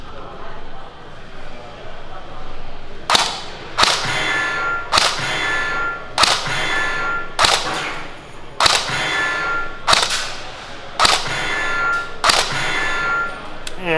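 An airsoft AK-style M4 hybrid rifle shooting 0.20 g BBs across a chronograph, about nine sharp, evenly spaced single shots with a bright metallic ring, close and loud after a quieter lead-in.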